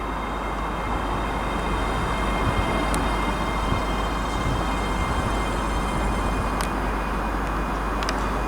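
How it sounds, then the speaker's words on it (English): A ScotRail Class 385 electric train arrives at Stirling station on the Edinburgh Waverley to Dunblane service, a steady loud broad rumble and rail roar with a few brief metallic squeals and clicks from the wheels. "arriving now is going to be the 1032 ScotRail service from Edinburgh Waverley to Dunblane, which is 385109"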